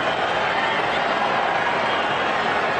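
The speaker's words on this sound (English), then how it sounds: "Crowd have absolutely loved it" A large stadium crowd at a Barcelona versus Juventus football match in 2018, a steady, dense roar of many voices filling the ground without pause.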